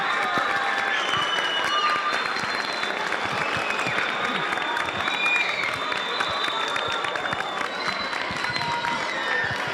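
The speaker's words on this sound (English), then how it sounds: "Get up on your feet and give them a real round of applause." Standing ovation from a high school story slam audience, a full, dense roar of clapping with some cheering, loud and continuous throughout.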